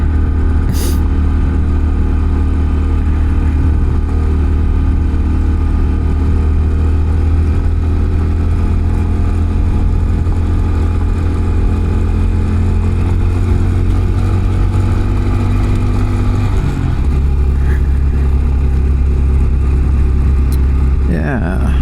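A Honda Trail CT125 motorcycle climbs a white-gravel mountain road, its steady mid-pitched engine droning close and loud throughout, with a brief shift in engine note near the end.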